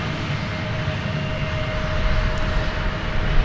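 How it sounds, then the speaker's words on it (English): Aircraft engines drone steadily at DFW airport as planes maneuver on the ground, a broad continuous roar with a faint tonal whine, swelling slightly louder toward the end. "Have more planes maneuvering around us."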